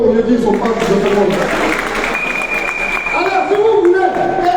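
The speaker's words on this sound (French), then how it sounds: "Applaudissez pour eux" Crowd at a gathering of African speakers in Paris applauding, broad clapping that runs throughout while a loud amplified voice talks and shouts over it.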